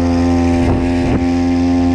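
A BMX bicycle fitted with a moped engine runs at a steady, loud buzzing drone close by, with a brief swell in pitch as it picks up speed. No one speaks.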